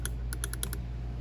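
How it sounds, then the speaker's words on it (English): A push button wired as a boost scramble switch in a Neon SRT-4 turbo clicked several times in quick succession, crisp close taps over a steady low hum. "These buttons have a really nice click to them"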